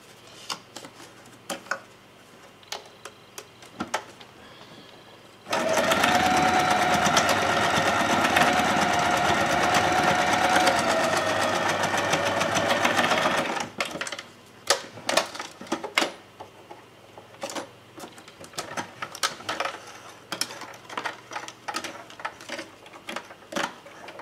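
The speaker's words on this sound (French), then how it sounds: "donc je vais coudre" A sewing machine stitches fabric in one loud, continuous, rapid burst lasting about eight seconds, bracketed by quieter handling clicks and rustles before and after.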